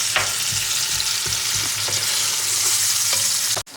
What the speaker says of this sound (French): Toujours à feu vif. On fasse bien revenir les oignons.